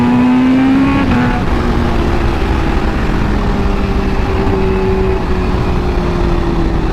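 A Kawasaki Ninja H2R motorcycle at full throttle gives a loud, close, sustained engine roar whose pitch climbs and then holds steady for several seconds.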